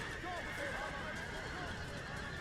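Horses whinny repeatedly amid the continuous din of an Empire: Total War video game battle, with hooves clattering underneath the steady roar of fighting.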